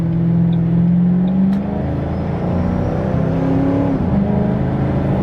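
Steady engine drone and road rumble from a flood-damaged Ford Mustang GT cruising on the road with bad tires, a continuous close-up hum with slight pitch shifts and no talking.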